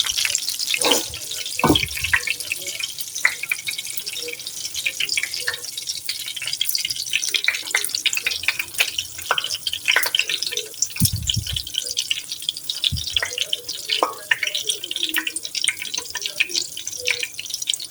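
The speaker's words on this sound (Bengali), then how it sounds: "এটি তেলের মধ্যে দিয়ে দিলাম" Pangas fish chop dropped into hot oil for frying, with a steady, fairly faint crackle and fine bubbling hiss alongside scattered small pops and a few low clunks.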